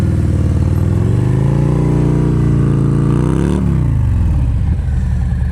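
A motorcycle creeps through slow-speed riding practice, its engine rumbling close and loud with a gentle rise in revs, then a dip and a throttle change partway through.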